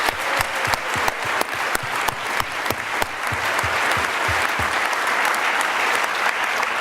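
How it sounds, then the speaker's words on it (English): An event audience gives a loud round of applause for three pitch teams on stage: sharp, close individual claps stand out over a dense, sustained wash of clapping that swells and holds steady throughout. "So let's give them another round of applause, please."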